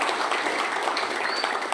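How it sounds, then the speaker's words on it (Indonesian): Audience at a union assembly clapping for the company PT PTI, a steady dense wash of many hands filling the room, loud and continuous throughout without pause. "saya kira berilah aplaus buat PT PTI"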